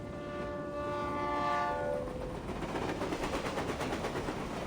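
A train on rails in a game scene, opening with a loud sustained horn blast, then a steady rumble with rhythmic clickety-clack of wheels rolling close by.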